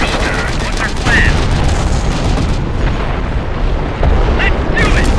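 Dense, continuous gunfire and booming blasts fill a US Army versus PLA battle in Company of Heroes Modern Combat, loud and unbroken, with voices mixed into the din.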